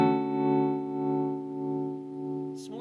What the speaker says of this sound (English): What's it sound like as amplitudinous tremolo?